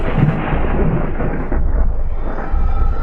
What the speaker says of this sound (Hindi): तभी जोर से बिजली कड़की।